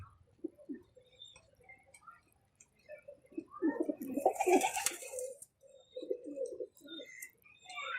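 A Washi bagha pigeon held in hand gives soft, intermittent cooing calls, a few low murmuring bursts with brief rustling between them, close and moderately quiet.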